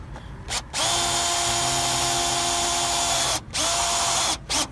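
A power drill drives 1-inch metal screws through two pieces of downspout and its strap, giving one loud sustained whir of about three seconds, framed by short bursts before and after.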